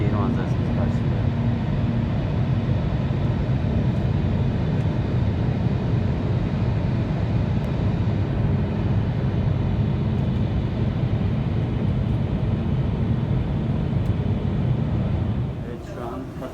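Steady, loud low-pitched roar from inside an airliner cabin as it descends toward landing at Doha, continuous and unchanging before easing off right at the end.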